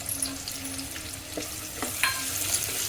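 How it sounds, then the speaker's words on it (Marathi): Finely chopped onion roasts in a pan for a spicy mutton head curry, a continuous close sizzle with a few brief scrape and stir knocks, no voices. "आता एक मोठ्या आकाराचा कांदा घेतलेला आहे तो सुद्धा आपल्याला भाजून घ्यायचा आहे"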